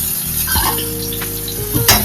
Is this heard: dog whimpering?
no